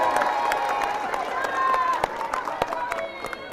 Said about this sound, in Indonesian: ayo kita tepuk tangan lagi sekali buat Pak Jengkos